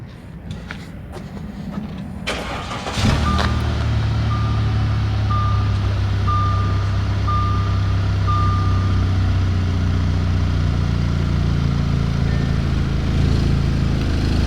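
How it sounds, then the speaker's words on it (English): An engine cranks and fires up, settling into a low steady rumbling idle from the exhaust, with a regular electronic beep repeating over it. "I'll actually turn it on right now, so you guys can hear the exhaust."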